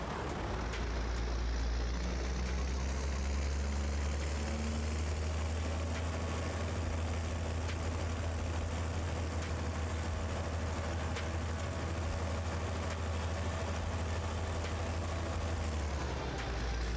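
A green tractor in a farming video game runs with a steady, loud, low engine drone that holds unchanged for the whole stretch, with no talking over it.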